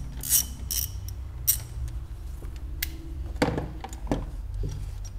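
A rusted stud is worked loose from an oil cooler mount, giving scattered metallic ratchet-like clicks and short grinding creaks over a low, steady background rumble, with a cluster of sharper clacks near the end.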